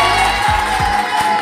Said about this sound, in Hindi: ये मोना मैम है, इसके लिए तालियां बजा दो।